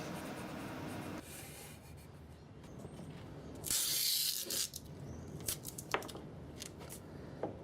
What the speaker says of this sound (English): Then take some masking tape and tape them all together